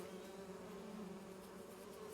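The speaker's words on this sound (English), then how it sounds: "we have our bees being around doing the deed" Bees buzzing around hives in a logging roleplay video game, a steady droning hum of many insects that holds at an even level throughout, with no talk.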